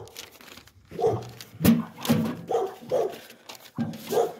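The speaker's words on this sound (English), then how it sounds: "See, that's the one that was barking a minute ago." A dog barks repeatedly nearby outdoors, a series of six or seven fairly loud barks at an irregular pace, with no talking over them.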